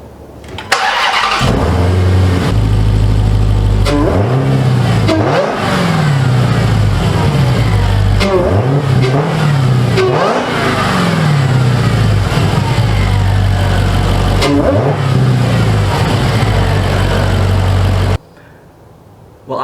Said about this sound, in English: So let's start it up. We'll do some revs